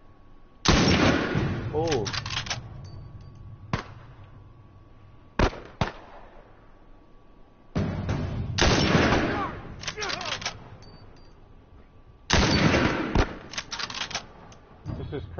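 Sniper and gunfire in The Last of Us Remastered: repeated loud bursts of rapid shots with a few sharp single cracks between them, separated by quieter gaps, with a brief spoken exclamation.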